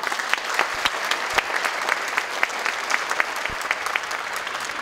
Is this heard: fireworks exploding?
no